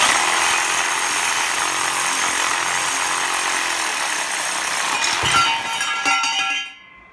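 A power saw cuts through steel exhaust header pipe bends from a hot rod header kit in a continuous loud, close, high whine, then a metallic clink as the cut finishes and the saw winds down.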